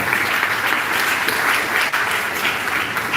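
A crowd at a high school graduation in Jamaica claps steadily, a dense, loud wash of applause that holds at an even level for the whole stretch, with no one speaking over it.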